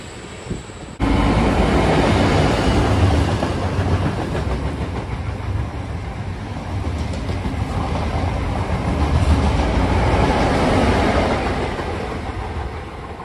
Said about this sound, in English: train for the platform 2 is coming to this Thornton station